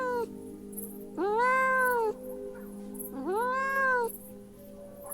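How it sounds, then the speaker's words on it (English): Two clear, drawn-out kitten meows separated by a short pause, fairly close and alone over a faint steady background hum. "It meowed softly."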